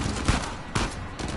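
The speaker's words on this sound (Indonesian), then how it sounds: "Berarti kita main tembak-tembakan sini." Bursts of gunfire in the video game Uncharted 4, two or three sharp shots in quick succession, fairly close and loud.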